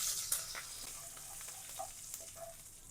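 Mustard seeds and curry leaves sizzle in hot tempering oil for a Mangaluru-style rice pundi gasi, a steady close crackle with a few sharper pops and no voices.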